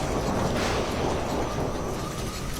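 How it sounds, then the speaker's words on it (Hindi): A violent storm in a cartoon, with strong wind roaring as a steady, dense rush of noise and rumbling thunder-like texture throughout, loud and unbroken with no voices. "वहां एक भयंकर तूफान आ जाता है"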